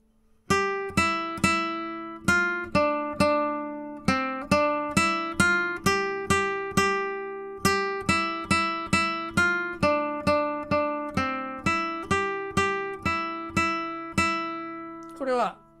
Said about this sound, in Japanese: これはポンティチェロです。